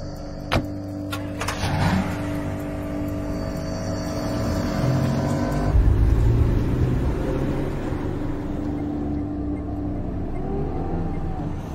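A private car drives along a busy road in Bandung toward Cipanas, its engine and road rumble steady and close inside the cabin. Clicks and a shifting hum come early, then a louder surge of road noise.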